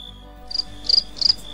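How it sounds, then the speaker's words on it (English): Crickets chirp in short, sharp bursts of high trills, repeating every few tenths of a second against a quiet background. "Cricket, cricket, noisy cricket."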